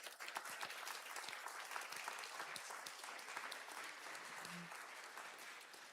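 Audience applause at a festival talk, dense, continuous clapping from a crowd, heard faintly and fairly distant, with a brief low hum partway through.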